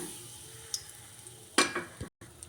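Quiet sizzling of whole spices, including star anise and kalpasi, dropped into hot oil, with a sharper crackle and a light clink partway through, no talking.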